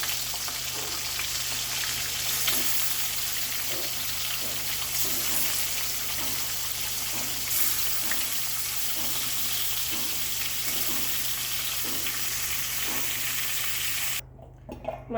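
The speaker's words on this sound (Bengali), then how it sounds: "এবার একে একে আমি সব মাছগুলো এরকমভাবে ভেজে নেব।" Pieces of bhetki (koral) fish fry in hot oil with a continuous crackling sizzle and occasional light utensil taps, steady and close, cutting off abruptly just before the end.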